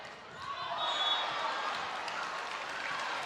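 Crowd applause and cheering swell and hold steady at an ACC college volleyball match between North Carolina and Miami, a dense, continuous roar filling the arena after a long rally.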